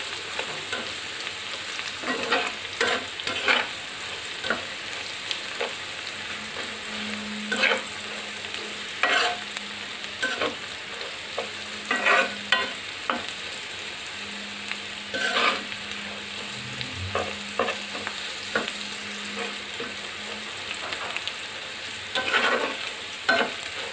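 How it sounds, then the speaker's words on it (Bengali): Eggs and onions fry in a pan with turmeric and cumin for a mixed vegetable bhaji, a constant sizzle broken by repeated close spatula scrapes and stirring clatters, with no talking. "এখন ডিম আর পেঁয়াজগুলো আরও দুই তিন মিনিট নিয়ে রেখে ভেজে নিই"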